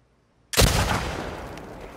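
A single loud sniper rifle shot in The Last of Us Part II, a sharp close crack followed by a long decaying echoing tail, with no talking.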